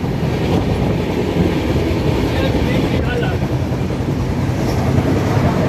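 Inside a moving passenger train, a loud, constant rumble and clickety-clack of wheels on rails fills the space. The sound is close and even throughout.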